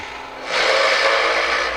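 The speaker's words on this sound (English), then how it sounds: "I'll drill my first hole, and I'll just go ahead and do that now" A baluster boring machine drives a 7/8 inch bit into a wooden handrail, giving a loud, steady grinding whir for about a second before it eases off.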